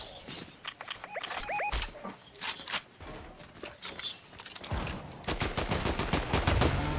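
Gunfire in the VR shooter Squads: sharp, rapid cracks in uneven bursts, a dense stretch of quick automatic fire toward the end, mixed with short electronic game chirps.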